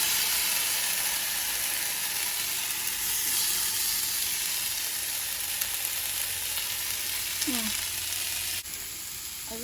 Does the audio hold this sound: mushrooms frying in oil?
yes